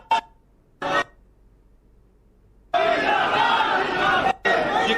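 A crowd gathered at an event in India, heard as a loud, dense burst of chatter and shouting. It comes in two bursts after short snatches of sound separated by near silence.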